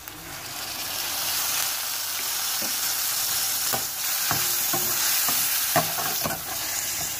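Chicken spaghetti frying in a pan as soy sauce is poured in, a steady sizzle with stirring clinks and scrapes scattered throughout, close and continuous.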